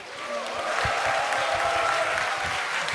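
A congregation at a church prayer service claps steadily to encourage children returning to their seats, the brisk clapping swelling slightly and holding at moderate loudness, with some murmuring voices mixed in.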